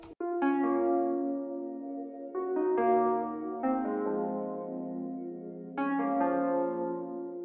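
Sampled tonal music run through a Valhalla Vintage Verb reverb with reduced decay and mix: several sustained chords, each entering with a soft attack and ringing out with a smooth tail, heard alone without voices.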